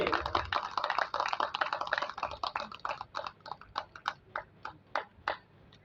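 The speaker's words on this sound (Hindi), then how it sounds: "ताली के साथ स्वागत करिए।" A small audience at a book launch event claps in welcome, dense applause at first that thins into scattered, separate claps spaced out toward the end, close and moderately loud with no talking.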